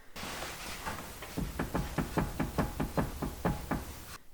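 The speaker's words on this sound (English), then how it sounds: "both the passenger side and the driver side exhibit that same clunk" A clunk from the tie rod and steering of an Acura NSX repeats as a rapid series of about a dozen dull knocks, evenly spaced and close, with no voices.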